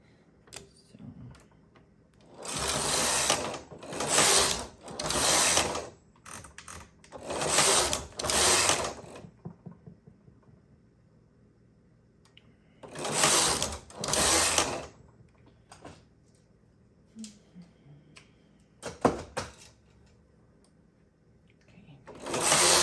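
A knitting machine carriage runs across chunky yarn in several loud mechanical bursts of whirring and clacking, separated by quiet pauses with faint handling noises.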